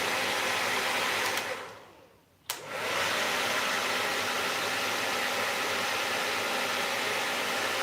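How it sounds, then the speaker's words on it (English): A Lust Brands blow dryer fitted with a diffuser runs as a loud, steady broadband whoosh, dropping out briefly for about a second before roaring back and holding constant. "This is the Lust Brands diffuser and blow dryer."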